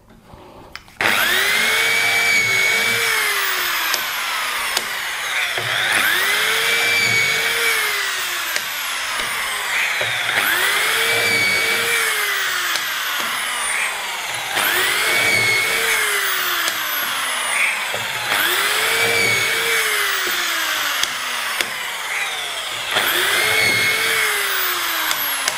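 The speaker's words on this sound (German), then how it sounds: "Lasst den Bohrer erst auf die volle Drehzahl kommen und dann geht er ins Holz hinein." A high-speed power drill bores a row of holes into wood for cabinet hinges. The motor whines up to full speed and bites in, then eases off. Six evenly spaced cycles repeat, loud and close.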